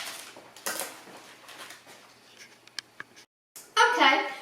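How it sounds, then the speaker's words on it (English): A knife chops sausage on a board, giving a few sparse, irregular taps and clicks, mostly faint, with a louder burst near the end; a person talks over much of it. "while that's boiling, I'll be chopping up my sausage"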